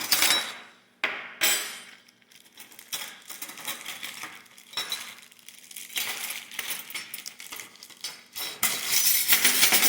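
Antique sterling 19th century butter knives and servers clink and tap against each other and a hard surface as they are handled, a string of close metallic clatters with brief pauses, louder toward the end.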